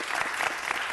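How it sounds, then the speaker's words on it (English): Dense audience applause fills a city council meeting chamber, a brief, continuous burst of many hands clapping at steady loudness. "Let's give them another round of applause."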